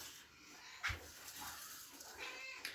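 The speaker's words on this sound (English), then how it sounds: "We've actually got my cat, Carly, is in the video right now. She's hungry." A hungry cat meows indoors, with one sharp, close meow followed later by a shorter cry, both over a low room hush.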